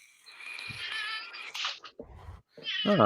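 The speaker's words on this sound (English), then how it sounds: "We have kitty sounds." Siamese cats meow repeatedly, long drawn-out yowls followed by shorter cries, close and fairly loud, with brief gaps between calls.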